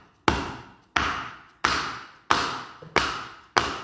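A bowl of wet mortar is banged down onto a hard surface to level it, six sharp, evenly spaced thuds roughly every two-thirds of a second, each dying away quickly, close up with no talking.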